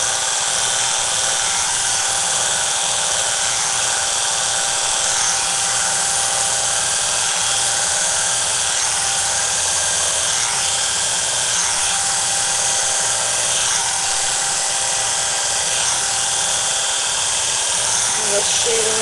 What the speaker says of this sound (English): I'm actually shaving against the grain of the fur.